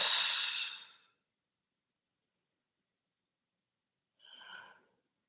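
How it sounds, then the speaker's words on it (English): Two slow, deep breaths during a core and calisthenics stretch, each a soft airy exhale near the microphone, separated by several seconds of silence. "Deep breaths."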